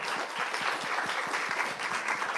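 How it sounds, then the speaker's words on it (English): A conference audience applauds the panelists of a climate and health panel discussion, a steady, fairly soft wash of many hands clapping, heard alone throughout. "why don't you join me in a big applause to thank you"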